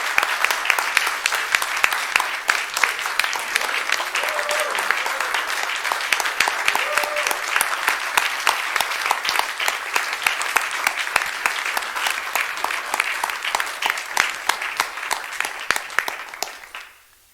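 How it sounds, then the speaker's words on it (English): An audience at a board meeting claps loudly and continuously for about sixteen seconds in a dense, even wash of many hands, with a few brief voices underneath, before the applause stops abruptly. "And you can clap again."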